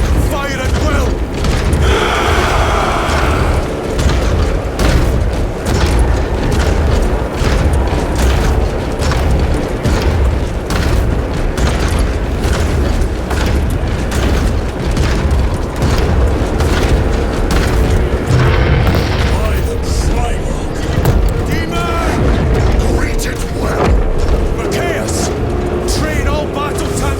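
In the Warhammer 40K Space Marine 2 video game, a battle roars with dense gunfire and repeated booming explosions, loud and continuous over clanking mechanisms and a rumbling low end.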